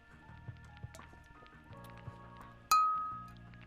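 Two drinking glasses clink together once in a toast, a single bright ring that decays slowly over soft background murmur and small handling clatter.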